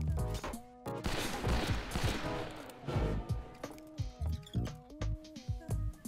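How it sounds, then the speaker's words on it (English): In a western shooter video game, a Volcanic nine-shot repeating pistol fires in quick bursts. Sharp, loud reports repeat throughout, with clusters of rapid shots and brief gaps between volleys. "The Volcanic is a 9-shot repeating pistol that does less damage per shot than the Navy, but has a faster fire rate"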